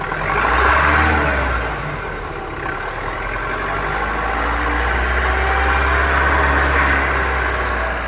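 A Ford EcoSport diesel engine with 150,000 km idles with a steady low rumble and clatter, swelling slightly at the start before settling into an even drone.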